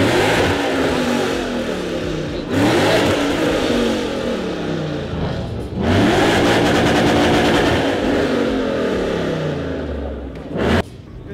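A loud Ford Mustang engine revs repeatedly, surging and rising in pitch in several long pushes, with a brief sharp burst near the end.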